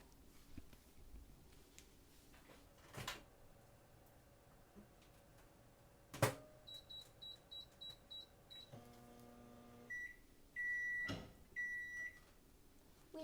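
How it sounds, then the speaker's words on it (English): Microwave oven heating marshmallows at power level 8: a steady low hum runs under the cooking, then a series of short electronic beeps and a longer, louder tone sequence near the end, alone with no talk. "they were in the microwave for a total of 2 minutes and 30 seconds, power level 8"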